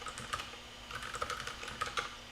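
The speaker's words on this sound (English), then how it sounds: "Typing too fast for keyboard and USB and stuff." Rapid typing on a computer keyboard, a quick irregular patter of light key clicks, close and fairly quiet, with no talking.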